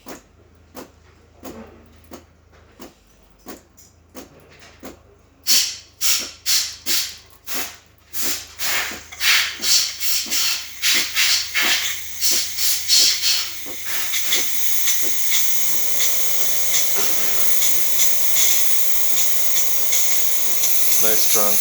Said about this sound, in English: Now let's test the steam.